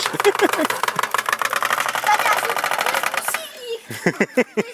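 A small engine sputters at a rapid, buzzy rhythm, then stops and a person speaks briefly nearby.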